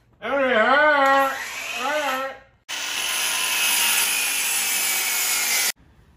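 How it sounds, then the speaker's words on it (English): A saw cuts wood pieces for a DIY fireplace frame. A person talks first, then a loud, steady rasping cut runs for about three seconds and stops abruptly. "we're cutting all the pieces for the frame before we cut the MDF"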